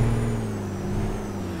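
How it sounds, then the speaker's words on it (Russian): A Peterbilt 387 truck in Euro Truck Simulator 2 lets out a loud, steady air hiss over a low idling engine hum, close by and continuous. "Машина вся шипит, звуки классные"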